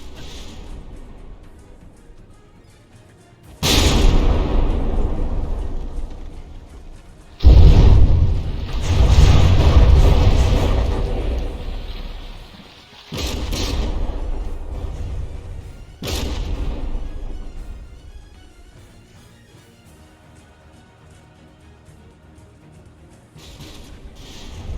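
Warship guns in the naval combat game From the Depths, firing during a battleship tournament brawl: four heavy, booming blasts spaced a few seconds apart, each with a loud rumbling decay over a quieter background hum.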